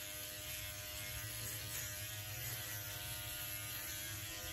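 A Philips Norelco OneBlade 360 electric razor shaves the face close to the lips, giving off a steady, close motor buzz and hum that runs unbroken for the whole stretch with no talking.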